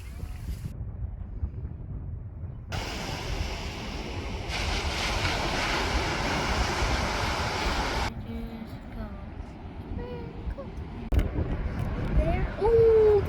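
Broad surf noise rolls along steadily on a beach in Lagos, with wind buffeting the microphone and scattered voices and movement in the background.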